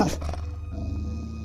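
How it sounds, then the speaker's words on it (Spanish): A low, rumbling animal growl, deep and sustained, heard close with no talking. "Pero este sonido se fue transformando en un gruñido."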